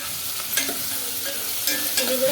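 Tomato pieces cook in a pan on a low flame for sambar, giving a steady soft sizzle broken by a few spoon-stirring scrapes, close and alone with no voices.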